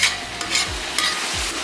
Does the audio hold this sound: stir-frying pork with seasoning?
yes